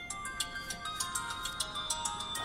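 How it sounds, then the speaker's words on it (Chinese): Mobile phone ringtone for an incoming call, a repeating electronic melody with steady pulsing beeps, moderately loud and close, with no talk over it. "对不起，我接个电话。"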